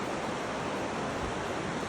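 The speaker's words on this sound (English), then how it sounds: "Couple of crazy rivers" Two rivers merging, a dense, steady roar of rushing water filling the whole stretch evenly, loud and close with no other sounds.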